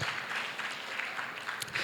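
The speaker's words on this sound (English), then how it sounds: "Please, let's give her another round of applause, please." Steady audience applause fills a conference hall in Nigeria, a dense, continuous wash of many hands clapping at moderate distance with no talk over it.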